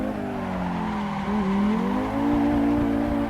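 A 1994 Audi Sport Quattro rally car sliding on a road, its engine droning and rising in pitch as it accelerates, up close and steady, with no talk.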